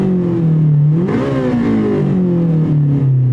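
The engine of a 1997 Honda Civic Type R EK revs up and falls back, the pitch climbing and then dropping as VTEC engages, loud and close with no voices.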